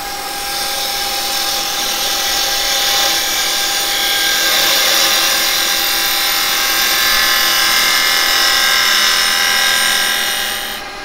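Wood lathe turning a tapered piece with carbide chisels, giving a steady, loud broadband whirring and scraping hiss that swells and holds for the whole stretch, with no talking.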